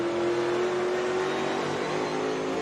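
A NASCAR Cup race car at North Wilkesboro holds a loud, steady high-pitched engine roar at full throttle, a sustained drone with no talk over it.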